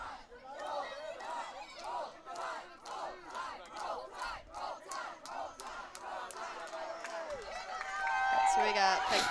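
Team supporters cheer at a collegiate archery national championship final, chanting in short rhythmic bursts, many voices shouting together in a steady pulse before the noise swells into a louder, looser roar.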